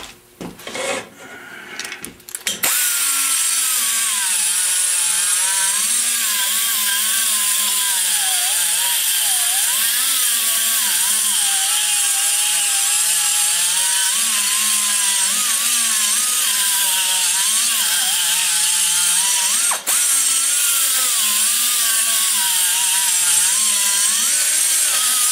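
A power tool grinds into the aluminum intake port of a 2013 LS3 engine, a loud, steady high-pitched whine with a wavering tone that runs continuously after a brief start, without speech.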